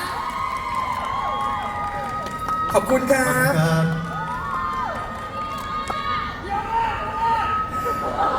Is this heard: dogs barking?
no